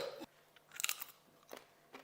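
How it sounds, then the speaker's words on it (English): A crunchy dehydrated tomato is bitten and chewed up close, giving a few sharp, dry crunches separated by brief pauses, with no talking. "Have you ever had a dehydrated tomato? crunchy."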